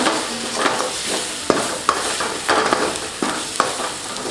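Masala spices with black pepper sauté in hot oil for a pepper quail fry. A loud, steady sizzle carries sharp spatula scrapes against the pan at irregular intervals, with no speech.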